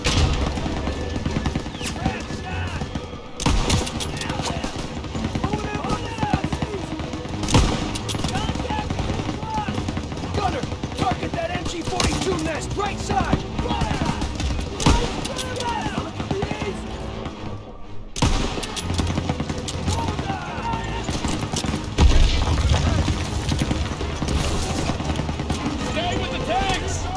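Dense gunfire and battlefield explosions in Call of Duty WW2 during Operation Cobra, constant and loud throughout, with shouted voices over the combat.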